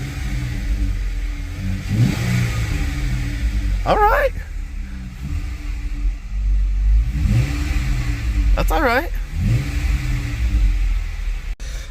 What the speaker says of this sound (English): You get a little bit of exhaust rumble.